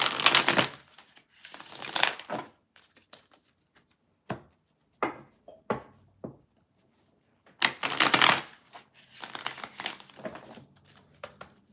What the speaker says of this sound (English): I'm going to shuffle this twice.